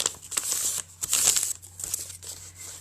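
Paper being folded and creased for origami, close crinkling and crisp rustles in short bursts with brief pauses between folds.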